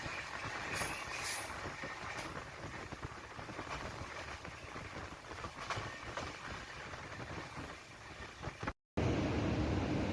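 A passenger train rolls along on a journey from Kottayam to Kanniyakumari, heading into a long tunnel near the Kerala–Tamil Nadu border; a steady, dense rumble of wheels and carriage noise fills the scene, with a brief cutout near the end.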